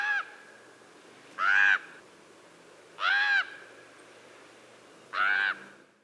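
Three loud, harsh screams from a common raven ring out about two seconds apart, each a strained, rasping call standing alone against quiet surroundings.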